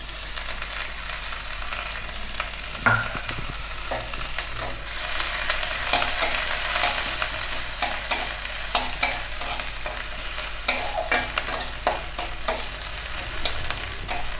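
Chopped onion frying in oil in a kadai, a continuous close sizzle broken by repeated spatula scrapes and stirring knocks at an irregular rhythm.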